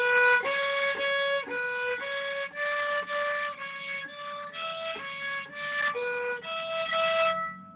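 Violin bowed while the forearm is held still, giving a string of short, repeated bow strokes with a slightly raspy, thin tone, evenly paced and close, with no talking over it.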